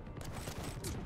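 A brief burst of rapid automatic gunfire from the Quake Champions video game, loud and dense over about a second.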